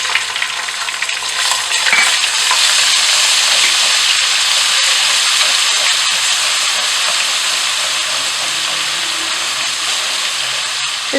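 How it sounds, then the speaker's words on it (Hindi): Mustard seeds, cumin and ginger-garlic paste fry in hot oil in a pan for a spicy potato masala, giving a loud, steady sizzling hiss that holds for the whole stretch with faint stirring. "अब मैं इसमें ऐड कर दूंगी राई और ज़ीरा, और साथ में इसमें मिक्स कर दूंगी जिंजर और गार्लिक पेस्ट"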